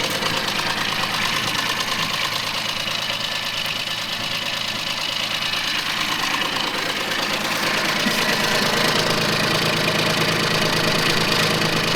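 A Japanese mini tractor with a freshly overhauled engine runs steadily with its rotary tiller turning, a continuous loud knocking engine drone with rattling vibration throughout, no voices.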